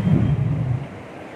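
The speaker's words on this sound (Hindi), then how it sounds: "बादलों की गरजने की आवाज़ें आ रही होंगी आपको।" A low rumble of thunder over Medina during heavy rain rolls in loudly, then fades away over about a second.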